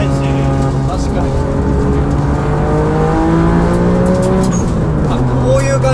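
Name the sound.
loud exhaust of turbocharged Suzuki Alto HA23V car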